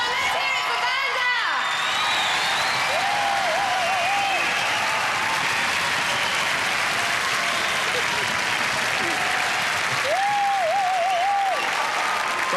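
Loud, sustained applause and cheering from a television studio crowd at the Gladiators UK grand final, continuous throughout the clip, with a voice speaking over it.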